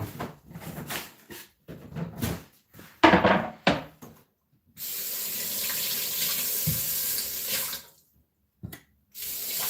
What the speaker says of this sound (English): and I'll wash the plate.